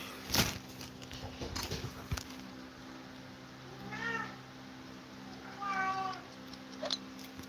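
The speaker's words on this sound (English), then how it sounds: "Meow." A cat meows twice, clear rising-and-falling calls a couple of seconds apart, with a few soft knocks and a low steady hum behind.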